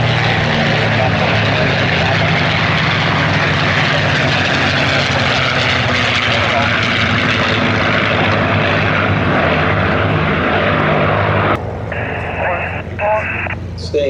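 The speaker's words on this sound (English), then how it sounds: "you recognise that sound as a Merlin" A Rolls-Royce Merlin piston aircraft engine drones loudly and steadily during an airshow flypast, a broad continuous roar that cuts off abruptly near the end, leaving quieter ambient noise with brief tonal bursts, while a commentator talks over it.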